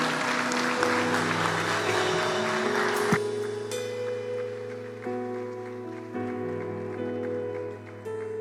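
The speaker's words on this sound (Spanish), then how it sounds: "Y recibimos a Benjamín con un fuerte aplauso." A church congregation applauds to welcome Benjamín, a loud burst of clapping at the start that blends into sustained organ-like music chords.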